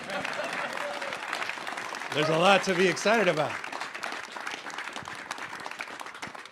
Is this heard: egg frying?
no